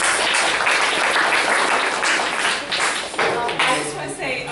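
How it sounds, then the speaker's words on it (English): Audience applause for a speaker at a talk on gaining mobile users, a loud dense burst of crowd clapping that gradually thins and fades, with a voice briefly audible near the end. "just a massive round of applause for Joel again"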